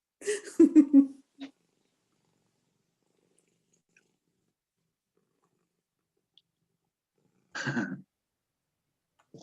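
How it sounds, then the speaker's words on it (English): A house cat meows and purrs in short close bursts near the start, then goes quiet for several seconds before another brief meow toward the end. "I think Nina's cat has a question."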